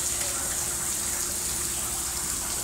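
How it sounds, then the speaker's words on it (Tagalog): Water gushes steadily from a resort pool shower, a loud, unbroken hiss of spray that holds evenly throughout without pauses. "Nag-shower yung pool."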